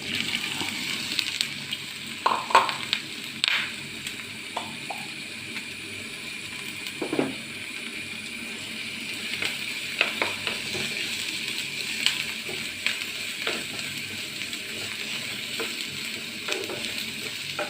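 Two small chopped onions frying in a pan for egg chilli, with a steady soft sizzle and occasional clicks and clatters of stirring, moderately quiet and without any voices.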